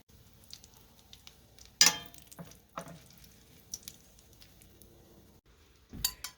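Bacon rendering in a pan gives a faint, quiet sizzle, broken by a few sharp clinks and scrapes of a utensil against the cookware.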